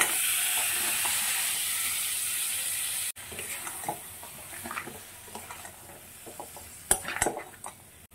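Fried crabs and potatoes go into hot masala in a pan, setting off a steady loud sizzle, followed by softer frying hiss with scattered stirring scrapes and clinks of utensils.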